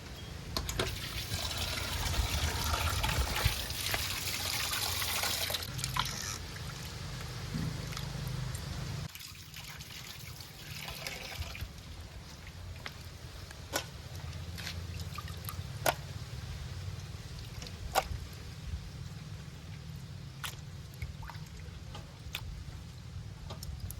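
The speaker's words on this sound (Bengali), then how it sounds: "মাছগুলো এবার ভালো করে ধুয়ে নেব" Cut pieces of lote fish are washed by hand in water: sloshing and splashing at first, then quieter sporadic drips, taps and small clinks against a container.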